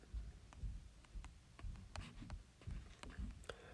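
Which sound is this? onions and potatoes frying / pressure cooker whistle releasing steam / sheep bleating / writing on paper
writing on paper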